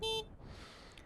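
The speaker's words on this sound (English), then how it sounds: "let's do the horn test" A short, loud stock horn blast from a Triumph Bonneville T100 motorcycle, a single steady electric tone lasting about a fifth of a second, followed by quiet background hum.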